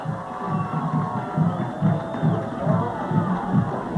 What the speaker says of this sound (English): Methuen crowd starting to make some noise as they set